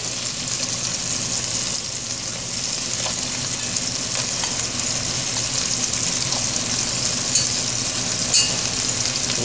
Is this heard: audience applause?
no